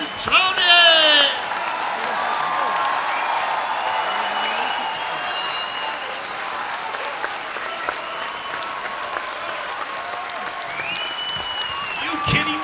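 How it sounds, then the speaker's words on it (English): A live crowd at a comedy show gives sustained applause, a dense steady wash of clapping with scattered whoops and cheers. Voices call out over it throughout. "put your hands together for Mark and Tony"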